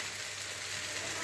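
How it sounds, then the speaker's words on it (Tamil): Vermicelli (semiya) is stirred in a hot frying pan, giving a steady close sizzle and scraping hiss that runs evenly without pause. "இப்போ இந்த சேமியை போட்டு ஒரு கலக்கிட்டோங்க"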